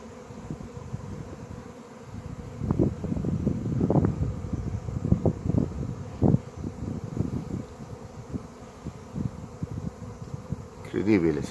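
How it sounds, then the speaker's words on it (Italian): A big swarm of bees fills the air with a dense, loud buzzing that swells and flickers throughout, with some wind on the microphone and a voice speaking partway through. "Uno sciame d'api."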